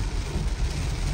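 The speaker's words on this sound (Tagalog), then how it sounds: "Kanina pa tong ulan eh." Steady rain pours down during a flood, a dense, loud, continuous hiss and rumble with no pauses.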